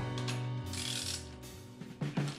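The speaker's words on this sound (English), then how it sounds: "I'm gonna put the seat bolt back on, just like so." A ratchet tightens the seat bolt on a motorcycle, giving a rapid close-up clicking pawl sound with bursts of turning strokes, loud and alone without speech.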